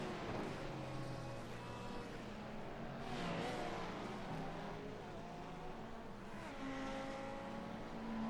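Race car engine in an IMSA racing game, closing on a GT3 car: a continuous loud engine drone with rising and falling revs, an overlapping second engine, and no talk.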